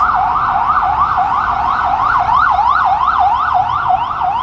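An ambulance siren wails loudly and steadily in a rapid rising-and-falling yelp, close by with faint traffic rumble underneath, on Fifth Avenue in New York City on a summer evening.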